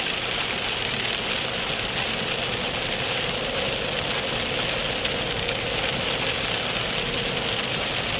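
Light to moderate rain falls steadily during a tornado-producing storm in Oklahoma, a dense even hiss of drops with a low engine-like rumble underneath and no talking.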